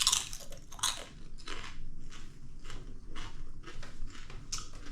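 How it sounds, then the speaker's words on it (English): Crunching bites of homemade kettle chips dipped in sriracha mayonnaise, close and loud, with repeated sharp crackles followed by steady chewing and no talk. "listen to the crunch"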